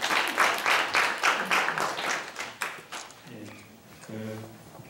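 Audience applause at a Korean environmental gathering on river restoration, a burst of clapping that fades after about three seconds, followed by faint tonal pings and low murmuring.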